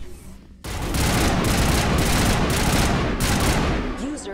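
Weapons fire in Mass Effect erupts suddenly after a short lull and becomes a dense, loud, sustained barrage of rapid shots that continues for several seconds before easing slightly near the end.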